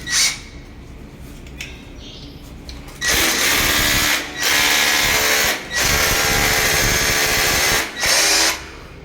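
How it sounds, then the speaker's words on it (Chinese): An electric drill bores holes in a ceiling to mount an electric lifting clothes drying rack, whining loudly in three long bursts separated by short pauses. "一样同样的电钻。"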